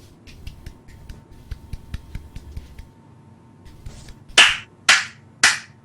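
A slow clap in a comedy podcast setting: after a few faint light taps, three loud, sharp handclaps land about half a second apart, close and isolated in a quiet room.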